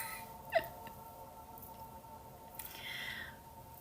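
A pet cat gives a single short meow, fairly faint against a quiet room, followed later by a soft rustle.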